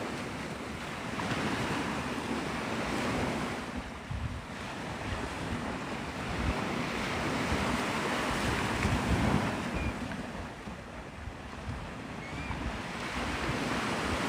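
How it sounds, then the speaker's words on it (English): Ocean waves and wind on Navarre Beach, Florida, on a stormy morning at sunrise: a steady, loud roar of surf with gusting wind buffeting the microphone, continuous throughout with no talking. "No, this is Navarre Beach."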